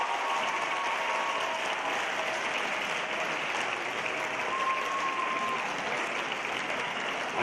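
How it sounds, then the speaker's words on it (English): Sustained applause from a graduation ceremony audience honoring teachers in Jerusalem, Bethlehem, Jericho and Abu Dis, a steady even wash of many hands clapping at a distance with no voices on top. "I'm glad you're clapping."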